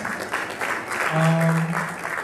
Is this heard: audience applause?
yes